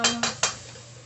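Three quick light clinks of clams being set into a dish, about a fifth of a second apart, close and crisp over a faint background hum.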